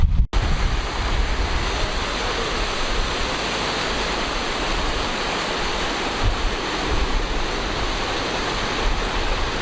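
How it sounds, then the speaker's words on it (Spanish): Floodwater rushes loudly along a flooded service road beside a motorway in Valencia, a constant dense roar that continues without a break; a brief spoken word comes right at the start. "pues la carretera de servicio es literalmente un río"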